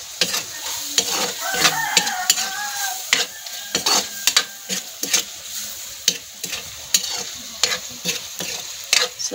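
Pork innards frying in a pan, a steady close sizzle broken by frequent sharp scraping clicks of a utensil stirring, with a few brief quiet voices.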